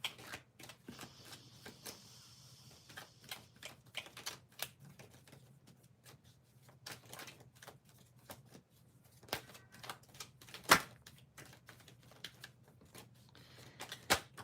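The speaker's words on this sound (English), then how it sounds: "I have to shuffle the cards a little bit" Tarot cards being shuffled by hand: a long run of quick papery riffles and soft flicks, close and moderately quiet, with brief pauses and no talking.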